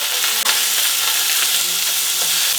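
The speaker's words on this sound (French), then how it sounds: "la viande la voilà, on va la faire saisir." Beef sears in a hot pan, giving a loud, close, continuous hissing sizzle with a brief stir or scrape, no voices over it.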